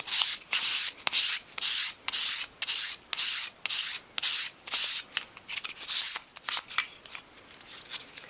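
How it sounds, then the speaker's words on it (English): A small wooden bookcase piece for a 1/12 scale dolls house being sanded by hand with fine-grade sandpaper, a close, rhythmic series of quick scratchy rubbing strokes with brief gaps between them. "You can then tidy that piece up in your hand using a fine grade sandpaper."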